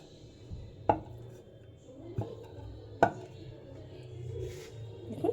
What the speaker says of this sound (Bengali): হালকা করে আমি কিন্তু এটা বেলে নিচ্ছি